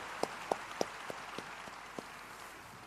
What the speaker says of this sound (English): Please give a big hand to our great panelists